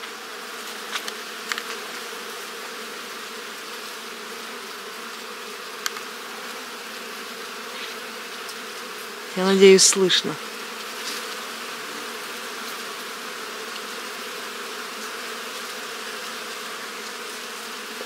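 A swarm of bees hums in a steady, dense drone throughout, with a brief spoken remark partway through.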